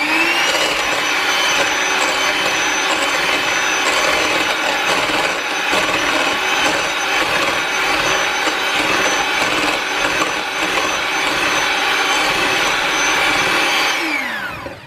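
An electric mixer whirs steadily at high speed while whipping heavy cream in a bowl, a loud, continuous hum lasting about fourteen seconds before winding down.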